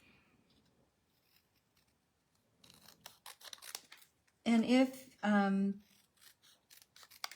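Scissors snip through a paper stencil along a pencil line during a stamping and stenciling craft session, giving a run of crisp, close cuts, then a short pause for talk and a few more scattered snips.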